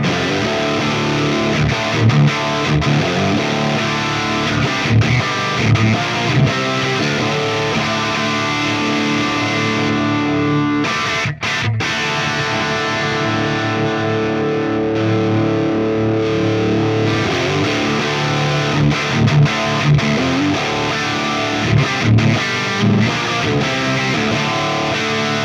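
Electric guitar plays through a Spark boost pedal and a compressor into a TONEX amp, giving a loud, steady distorted tone with sustained chords and riffs throughout and a brief pause near the middle.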